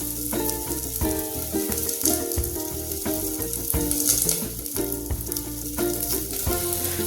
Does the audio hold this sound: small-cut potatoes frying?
yes